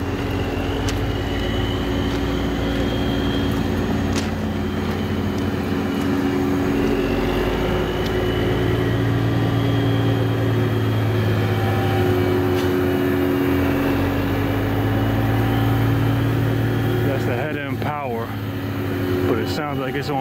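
A Metro North locomotive sits on low idle in a rail yard, a steady deep diesel drone with humming tones, joined near the end by a brief burst of rattling clatter.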